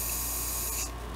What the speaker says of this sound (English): put your paint can right up against your stick, the nozzle, and spray it on the stick